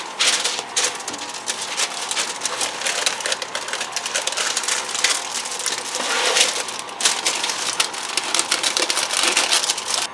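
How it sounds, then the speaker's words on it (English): Steady, dense crinkling and crackling of parchment paper being handled and folded over a sheet for Instant Pot pizza dough, continuous and close with no pauses or speech. "So get the parchment on top of that, and I just fold the corners underneath"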